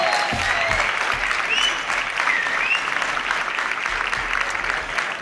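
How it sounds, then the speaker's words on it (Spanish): Sustained audience applause at a live comedy monologue show, a dense steady wash of clapping with crowd noise throughout, loud and close. "vamos a recibir un fuerte aplauso"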